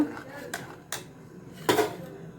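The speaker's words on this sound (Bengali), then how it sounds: "এবার পেস্টটা ভালো করে নাড়িয়ে নেব" Red chili sauce paste is stirred over high heat in a pan, giving a few separate metallic scrapes and clinks of a spoon against the pan between short quiet gaps.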